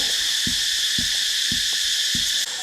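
Low dull thuds repeat about every half second, five soft knocks of a loose stone block rocking underfoot at Beng Mealea temple ruins, Siem Reap, Cambodia, over a steady hiss of insects or wind.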